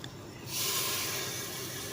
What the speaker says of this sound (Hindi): इसमें थोड़ा सा पानी हम डाल देंगे,